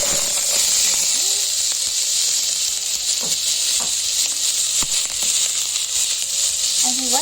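Onions sizzling loudly in hot oil in a pan with cardamom, a continuous bright hiss with occasional stirring scrapes and a faint voice underneath.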